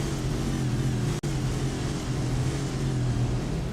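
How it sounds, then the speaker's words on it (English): Race car engines roar steadily in an iRacing Cup Series event at Martinsville, a constant loud drone with one abrupt brief dropout midway. "You can just hear the engine much better going through as they fly by."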